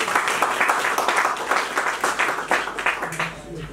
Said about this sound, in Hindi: ताली बजा दीजिए थोड़ा सा